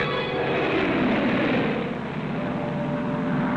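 A heavily loaded 1927 propeller airplane drones steadily overhead, a continuous loud engine and airscrew roar with no break or change in pitch.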